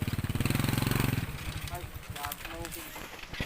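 Motorcycle engine running, loud and steady with a throbbing pulse for the first second, then dropping to a rougher, quieter idle as people talk over it.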